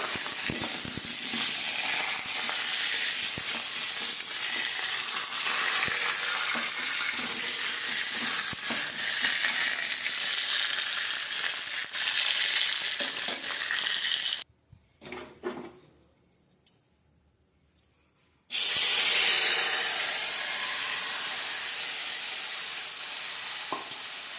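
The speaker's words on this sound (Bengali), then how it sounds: "মাছটাও ভেজে নেব।" Fish frying in a pan gives a loud, steady sizzle that runs without talk, drops to near silence for a few seconds, then returns just as strongly.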